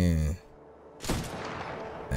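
Weapon fire in Titanfall 2: a voice at the very start, then silence, then a sharp burst of shots hits at about the one-second mark and trails into a sustained crackling rattle of gunfire to the end.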